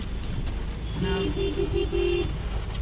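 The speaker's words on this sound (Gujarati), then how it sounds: "વરસાદ હોય ને એટલે બધા 4 વ્હીલ લઈને મૂકવા આવે ને એટલે એટલો ટ્રાફિક થાય ને" Car traffic on a rainy morning, with a steady roadway rumble and a string of short horn toots from a nearby vehicle partway through.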